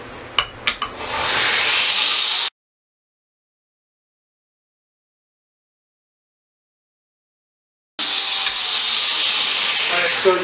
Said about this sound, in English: as I'm grinding, I'm changing the angle of the knife slightly like this